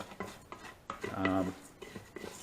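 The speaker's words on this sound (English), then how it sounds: "Just have to keep stirring because I don't want the rice to burn and like deep fry" Rice stirred while roasting in butter in a pan for saffron rice: scraping, rasping utensil strokes against the pan, repeated in irregular rhythm, close and moderately loud, with a short sizzling stretch in the middle.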